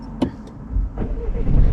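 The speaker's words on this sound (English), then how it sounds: "Start the engine." A car engine cranks and catches during a driving lesson, with a brief click and whir followed by a low rumble that settles into a steady idle close by.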